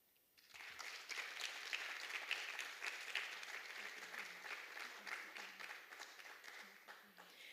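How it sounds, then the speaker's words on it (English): An audience at a regional top award ceremony breaks into sustained applause after an award presentation, a steady wash of many hands clapping that starts abruptly and continues throughout, fairly faint and distant. "a round of applause for Ayana Felix"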